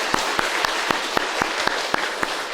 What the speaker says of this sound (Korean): 박수로 우리 격려하겠습니다